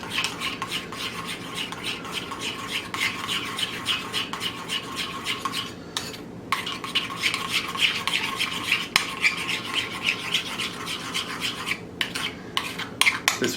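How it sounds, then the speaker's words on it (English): A spoon scrapes and swirls through a mixture in a bowl, making quiet, continuous rubbing and clinking sounds close by with brief pauses between strokes. "give it a stir up."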